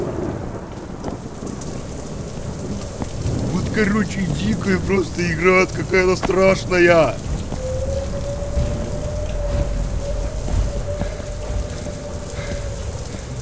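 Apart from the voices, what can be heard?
rain and thunder in a video game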